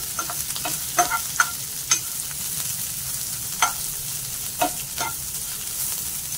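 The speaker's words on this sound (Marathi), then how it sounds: "आणि आलं पण टाकायचंय, चांगलं गुलाबी होईपर्यंत परतवून घ्यायचंय" Ginger sautéing in a pan for potato bhaji served with masala dosa, a steady close frying hiss with several sharp clicks of a spoon stirring against the pan, no voices.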